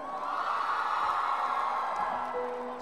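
Concert crowd in Siantar cheering and whooping at a steady, loud level, a broad wash of voices with shouts and faint clapping mixed in, sustained throughout.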